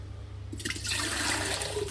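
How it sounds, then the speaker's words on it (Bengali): Water poured from a jug into a bucket, a steady splashing gush that starts abruptly and continues loud and close over a low background hum. "জগে কিছুটা জল ছিল, দিয়ে দিলাম।"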